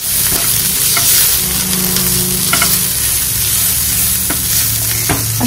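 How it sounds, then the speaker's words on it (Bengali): Fish pieces coated with turmeric, chili and coriander powder are stirred in a hot pan, a loud, steady sizzle of frying with occasional scrape and clack of the spoon against the pan, close up and without speech. "আমি এর মধ্যে গুঁড়ো মশলা সামান্য পরিমাণে হলুদ, সামান্য লঙ্কার গুঁড়ো, একটু ধনিয়ার গুঁড়ো দিয়ে ভালো করে আমি এটাকে মিক্সড করে নিচ্ছি।"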